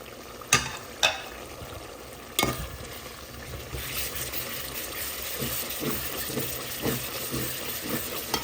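Rui fish curry with eggplant, potato and beans cooking on a stove, a soft continuous sizzle and bubbling with a few sharp utensil clanks early on, fairly quiet and close.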